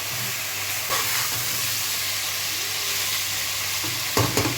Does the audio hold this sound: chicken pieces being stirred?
yes